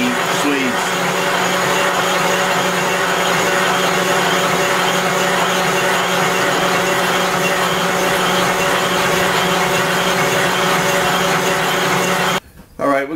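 A large boring bar with a boring bit cuts metal sleeves on a boring machine for a crusher rebuild, a steady loud whining hum with tonal drone that runs unbroken before cutting off abruptly near the end.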